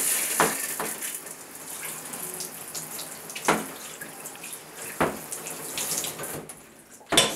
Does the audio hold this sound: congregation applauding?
no